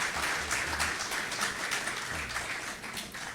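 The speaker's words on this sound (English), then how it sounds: "I think he deserves another round of applause" An audience applauding for a speaker at a law faculty's 50th anniversary event at Cave Hill, a steady wash of clapping from a full room, fairly even and continuous.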